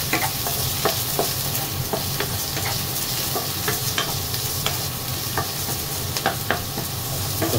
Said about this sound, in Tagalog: Tira natin yung ating sibuyas at saka luya.